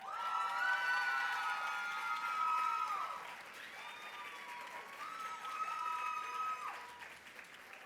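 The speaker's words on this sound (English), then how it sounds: "this is just the first round of applause that you're going to be experiencing" Enthusiastic applause and cheering at a Barnard reunion dinner awards ceremony for the Young Alumna Award recipient, loud sustained clapping with high whoops and shouts rising over the crowd, then tapering off.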